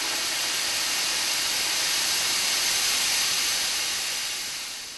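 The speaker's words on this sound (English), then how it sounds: "I can go ahead and blow down the steam from the boiler, the residual steam" Residual steam blowing down from a vertical steam boiler after a steam engine demo: a loud, continuous close hiss of escaping steam, steady throughout and tapering slightly at the end.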